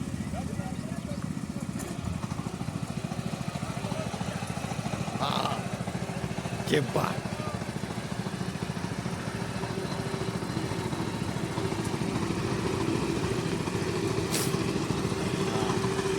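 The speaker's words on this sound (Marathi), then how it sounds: "आता आपण सीट मागे लावून कसे ट्रॅक्टर चालतात ते आपण आता बघू" A petrol-engined tractor-style power weeder runs steadily at a moderate distance, its even, buzzing drone holding throughout with only brief faint clicks and noises on top.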